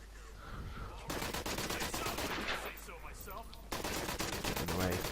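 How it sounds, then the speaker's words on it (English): Rapid automatic gunfire in the video game Special Forces Team X, loud bursts of machine-gun shots filling the scene with dense rattling, continuing almost without pause. "I just shot him in the face."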